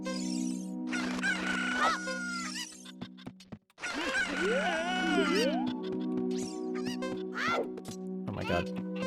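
Cuccos, the chickens of Zelda: Ocarina of Time, squawk and crow in loud, overlapping bursts over sustained game music tones, with a brief dropout partway through.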